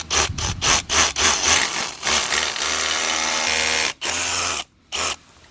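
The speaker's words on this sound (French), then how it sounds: "Donc je vais percer aux 4 coins." A drill bores into a gate motor mounting plate, sustained and loud at close range, with short pauses and restarts between holes.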